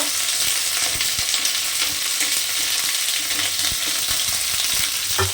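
Okra frying with nigella seeds, a dense continuous sizzle close up with occasional stirring knocks and scrapes, no talking.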